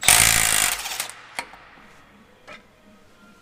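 An impact wrench undoes a nut on a Vaderstad Rapid seed drill during servicing, giving one loud, close rattling burst of about a second, followed by two short, sharp knocks.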